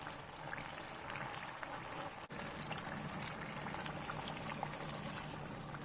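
Popiah spring rolls deep frying in very hot oil, a steady dense sizzle and bubbling that runs continuously throughout, close and moderately loud with no talking.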